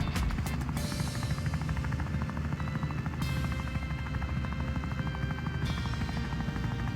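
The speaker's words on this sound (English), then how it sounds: "we get back into our helicopter and we fly up to the mountain base" Steady, continuous helicopter rotor drone in the video game Wobbly Life, with a dense mechanical whir, holding at an even level throughout with no talking.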